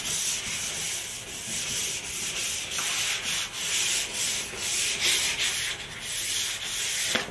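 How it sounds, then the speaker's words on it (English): Steady scratchy rubbing of 1500 grit sandpaper across a painted car bumper, a close, continuous hiss in back-and-forth strokes with no talking. "This is 1500 sandpaper. I'm going to smooth it up a bit."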